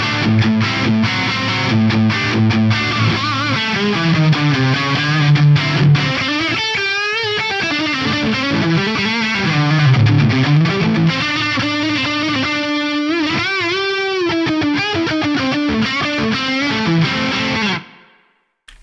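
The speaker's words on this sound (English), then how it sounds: "It gives you like a more lo-fi sounding wobbly reverb." Electric guitar through a Meris Mercury 7 reverb pedal gives a lo-fi, wobbly, vibrato-laden reverb with gritty distortion, played continuously and loud for about seventeen seconds before cutting off into silence, with no talk.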